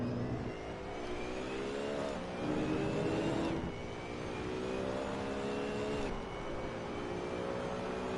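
A BMW Z4 GT3 race car engine in Assetto Corsa revs high and climbs through the gears, with its pitch dropping sharply at each of several upshifts; steady, fairly loud whine with no talk.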